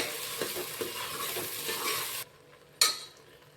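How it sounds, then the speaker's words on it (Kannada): Oil sizzles and fries in a pan for churumuri masala while a spoon stirs, the crackle cutting off abruptly and followed by a single sharp clink. "ಸ್ವಲ್ಪ ಎಣ್ಣೆ ಫ್ರೈ ಆಗ್ಬೇಕ್ರಿ."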